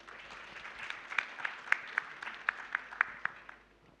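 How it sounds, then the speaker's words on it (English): Audience applause at a healthcare panel discussion at the Bangladesh Investment Summit, greeting the founder of Labaid Group. Steady, fairly soft clapping from a crowd runs for about four seconds, with a few louder individual claps, then tapers off. "So can we get a round of applause for Mr. Shamim?"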